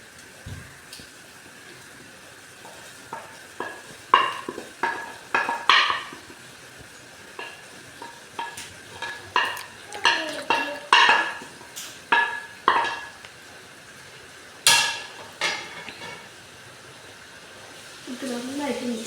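Sesame cooking mix stirred in a pan, a series of irregular scraping and clattering strokes with soft sizzling underneath, moderately close, with a voice talking at times.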